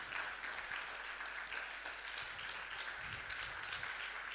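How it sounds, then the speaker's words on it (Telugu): Faint, distant clapping from a church congregation during a Telugu Christian worship service, a steady wash of hands that continues without pause for several seconds. "చప్పట్లు కొట్టి దేవుని మహిమపరుస్తాం."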